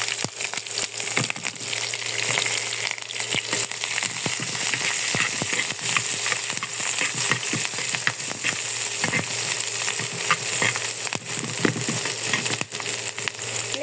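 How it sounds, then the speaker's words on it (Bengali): Onion and green chili dropped into hot oil over a cumin tempering for a winter bean and potato stir-fry, giving a constant soft sizzle and crackle with scattered small clicks, moderately quiet and steady, with no talking. "এখন আমি পেঁয়াজ মরিচটা দিয়ে দিব"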